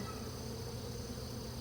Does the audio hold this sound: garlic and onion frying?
no